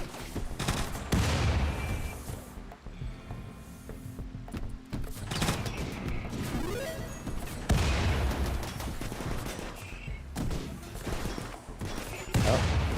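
Bursts of gunfire in RimWorld, loud clustered volleys of shots and machine-gun rattle that come in waves across the stretch, with brief lulls between them.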